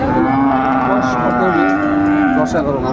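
Loud, sustained mooing from a 10-11 month old Friesian bull calf at a Dinajpur cattle market, one long close bellow bending in pitch for about three seconds amid crowd noise.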